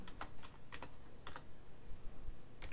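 Quiet clicks from a computer keyboard as an email address is typed into a mail client, irregular short bursts of keystrokes with no talking.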